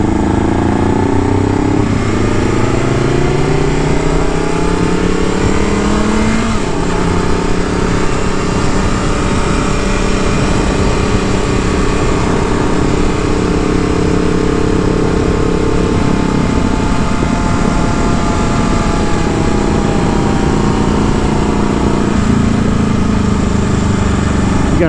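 A CF Moto motorcycle fitted with a new aftermarket exhaust runs steadily nearby for the whole stretch, its throaty engine note rising and falling with throttle changes and never dropping out.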